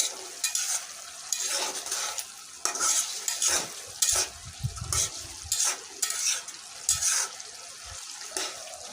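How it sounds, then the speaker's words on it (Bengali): Bamboo shoots cooked with shrimp fry and get stirred in a pan, with repeated clattering scrapes and a steady sizzle broken by short bursts of louder sizzle. Nobody speaks. "আমি ডাকনাটা তুলে বারবার নাড়াচাড়া দিয়ে নিলাম"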